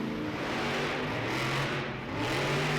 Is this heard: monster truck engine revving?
yes